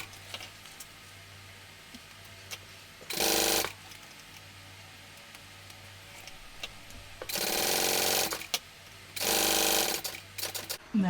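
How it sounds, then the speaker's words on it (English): Sewing machine basting two raw fabric edges together at an eighth of an inch, running in three short bursts of steady whirring stitches with quiet pauses between, close up and alone. "what I'm going to do first is I'm going to baste my 2 raw edges together at an 1/8 of an"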